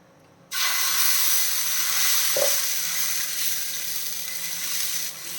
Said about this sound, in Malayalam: ഞാനൊരു ദോശ പാൻ ചൂടാക്കാൻ വെച്ചിട്ട് ഓയിലൊന്ന് ഗ്രീസ് ചെയ്ത് കൊടുക്കാം എന്നിട്ട് നമുക്ക് ബാറ്റർ ഒഴിച്ച് കൊടുക്കാം